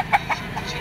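A yellow-legged bull stag chicken at the Lipa auction market gives three or four short, soft clucks in quick succession, close by.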